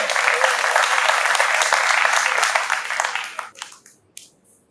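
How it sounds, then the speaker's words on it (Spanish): Warm applause for district mayor Miguel Checa at a book presentation, steady dense clapping from an indoor audience that thins out and trails off to a few scattered claps. "para que le pido un fraternal aplauso"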